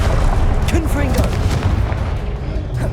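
Confringo fire-blast spell explosions in the video game Hogwarts Legacy, heavy booming bursts and rumbling impacts throughout, with a short voice cry heard over the blasts.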